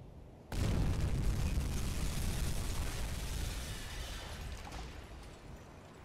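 A torpedo striking a ship in the U-boat submarine game, a sudden heavy boom that swells into a long, rumbling roar and slowly fades over several seconds.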